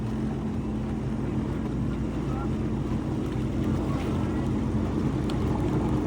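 A Sea-Doo GTX Limited 300 personal watercraft runs across open water with a steady low engine drone, water rush and heavy wind buffeting on the microphone throughout.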